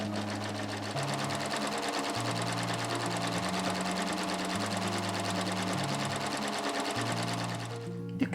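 A sewing machine stitches room pants with dark grey thread, running in a fast, steady mechanical chatter close by, its pitch shifting slightly as speed changes, then stopping near the end.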